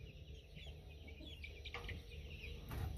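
Buff Orpington pullet chicks in a brooder in a barn give soft, faint clucks and chirps over a steady background hum.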